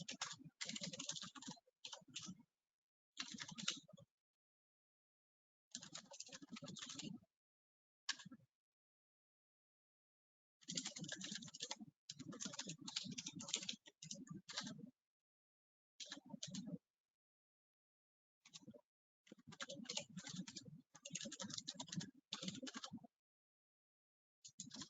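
Keyboard typing while entering an nmap command during an infrastructure penetration testing lab demo, coming as bursts of close, quick key clicks separated by short pauses.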